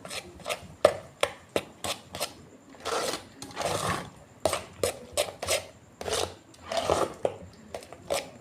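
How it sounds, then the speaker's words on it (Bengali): Spices and other ingredients are stirred and mixed by hand in a bowl for a Bengali palm-fruit malpua batter, making brisk scraping and rubbing strokes that come in quick bursts with short pauses, close and clear. "এবার সব কিছু আমি ভালো করে মিক্সড করে নেব।"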